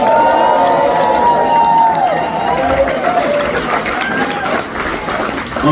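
Audience at a live concert at The Masquerade in Atlanta, Georgia, cheers and applauds loudly for the drummer during band introductions. A dense, sustained roar with whoops rises over the clapping.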